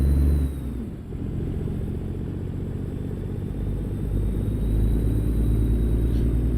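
Truck engine in American Truck Simulator, a steady low diesel rumble that swells and builds as it pulls, with a faint high turbo whine over the top, no talking.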